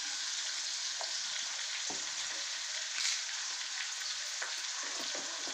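Onions fry in a pan with a steady, close bright sizzle, a few soft crackles and stirring taps rising above the continuous hiss, no voices.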